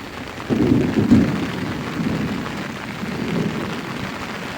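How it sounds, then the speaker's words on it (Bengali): Heavy rain in a thunderstorm with constant lightning, outside a flooded room by a pond-side kitchen. A low rumble swells early, then a dense, steady rain wash continues. "কখনো একটু কমে বৃষ্টি, আবার কখনো বাড়ে"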